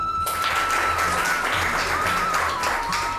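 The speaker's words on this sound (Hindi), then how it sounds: "ताली बजाओ।" Audience clapping at a motivational talk, a dense wash of many hands beating steadily and loudly throughout, with a thin sustained tone running beneath it.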